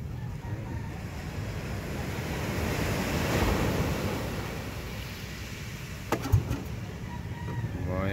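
Ocean waves rolling and surging steadily, swelling loudest midway, with wind buffeting the microphone and a brief knock near the end.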